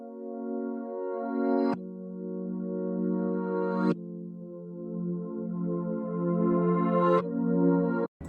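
Reversed Rhodes electric piano melody without chorus, each sustained chord swelling up and ending in a sharp cutoff; four long rising tones play alone, close and steady.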